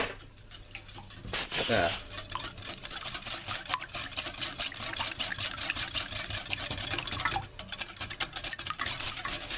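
A metal whisk clatters fast and steadily against a bowl while beating eggs in a home kitchen, continuous and close, with one brief spoken word early on.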